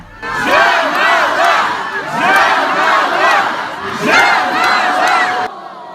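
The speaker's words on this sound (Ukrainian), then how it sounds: "Захоплена публіка хвилою овацій зустрічає переможець." An airport arrivals hall crowd greets a singer with cheering and ovation, loud rolling waves of shouts and whoops rising and falling close by for several seconds before cutting off.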